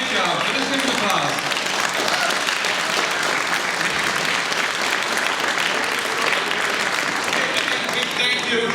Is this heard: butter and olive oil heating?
no